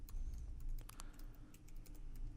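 Quick, light keystrokes on a computer keyboard at an irregular pace, with several sharper taps standing out over a low background hum and no voice.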